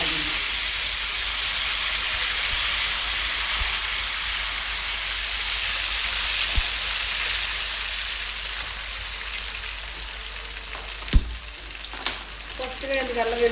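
Ginger garlic paste sizzles in hot oil for a fish curry, a continuous loud frying hiss that holds steady throughout, broken by a few sharp pops and spatters near the end.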